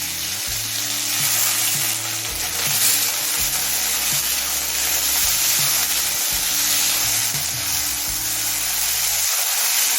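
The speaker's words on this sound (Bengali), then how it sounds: "আলুটা মিনিট দুটো ভেজে নিয়েছি" Potatoes fry in hot oil with dried red chillies for kachki fish chorchori, giving a loud, continuous sizzle and crackle close by with a few scrapes of stirring.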